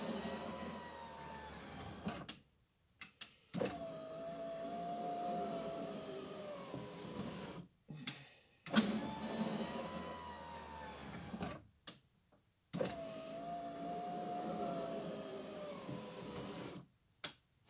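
An electric power window motor in a 1941 Dodge WC whirs in three long, steady runs with brief pauses between, fairly quiet and close.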